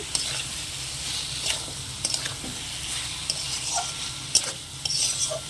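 Potato and kundri stir-frying with masala in a pan, continuous sizzling under repeated scraping and clinking of a spoon against the metal, no voices.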